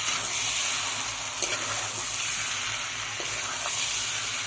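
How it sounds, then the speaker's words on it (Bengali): Ginger and garlic fry with masala in a pan for a singi and shol fish curry, a dense constant hissing sizzle with faint stirring scrapes throughout. "এখন আমি কিন্তু আদা রসুন যেটা দিয়েছি সেগুলো আমি ভাজি, ভালো করে মশলাটা কষাই।"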